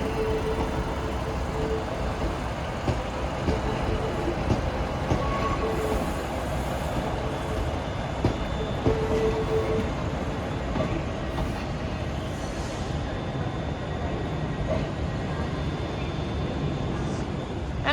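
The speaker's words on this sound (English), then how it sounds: "departing out now is the 10:02 Scotrail service, starting here at Glasgow Central, going to Edinburgh Waverley" A ScotRail train leaves Glasgow Central for Edinburgh Waverley, giving a continuous loud rumble with rhythmic wheel clicks and clatter on the track, heard nearby from the platform.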